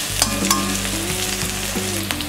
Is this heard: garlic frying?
yes